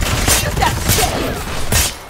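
Rapid gunfire in the multiplayer shooter Predator: Hunting Grounds, a sustained volley of close bursts in separate clusters, with some voice chatter mixed in.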